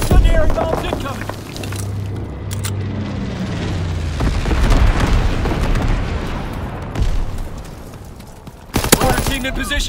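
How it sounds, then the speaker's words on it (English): Incendiary bombs explode in Call of Duty WWII in a continuous loud roar of blasts and rumbling that fills the stretch, with sharper booms near the start and end. "Enemy bomber approaching. Incendiary bombs incoming."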